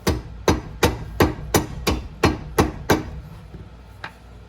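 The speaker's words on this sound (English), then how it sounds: "So I don't have a dead blow, but I do have a rubber mallet," A rubber mallet strikes a Jeep Wrangler JK rear axle about ten times in a steady rhythm to seat it into the housing, each tap a dull, close thud, with a final lighter knock after a pause.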